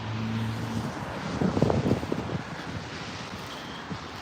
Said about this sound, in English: I know it's windy now.